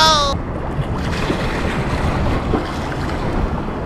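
Strong sea waves wash against a kayak off Green Egg Island, a steady loud splashing churn mixed with wind buffeting the microphone and a brief high tone at the start.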